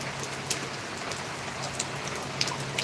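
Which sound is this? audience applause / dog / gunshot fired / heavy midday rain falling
heavy midday rain falling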